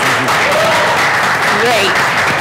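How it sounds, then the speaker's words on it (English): Audience in a new event space claps hands at a millennial social contract panel, a steady dense wash of applause throughout with faint voices rising over it. "if you agree with me, clap your hands."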